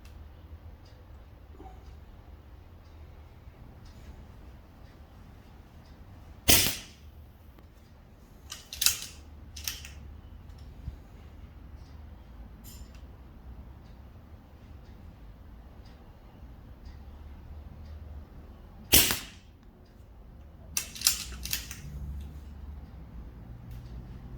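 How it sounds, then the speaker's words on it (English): Two groups of sharp CO2 air rifle shots, each a loud crack followed by a couple of softer clicks, separated by a long quiet pause with faint background noise. "And with the CO2, we always want to give at least 10 seconds in between shots."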